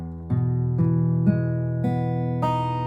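Sustained notes ring out on a fretted string instrument as a chord is built up, plucked in about five evenly spaced strokes, each new attack layering over the decaying ones, clear and close.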